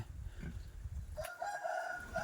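A rooster crows on a rural farm where ducks and chickens are kept, a clear sustained call rising over the second half after a stretch of low rumbling background noise.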